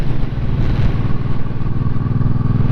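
A Honda Shadow motorcycle engine running while riding, a loud, steady, close-up low rumble with a pulsing beat and no talking over it.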